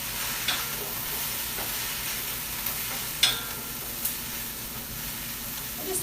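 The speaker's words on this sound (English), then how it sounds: "let's stir this." Onions and vegetables fry in a pan for paleo dirty rice, a steady close sizzle with a few sharp scrape-and-clack stirring accents, no talk.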